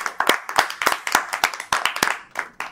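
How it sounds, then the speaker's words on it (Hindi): An audience at a Navratri book launch gives a short round of applause: a few seconds of close, brisk, uneven hand claps from a modest crowd. "के लिए एक बार जोरदार तालियां।"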